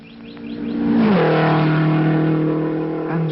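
Race cars at the Indianapolis Motor Speedway roar past with a rising engine howl whose pitch climbs and then holds steady. The sound is loud and sustained on an old, bandwidth-limited recording, with no talk over it.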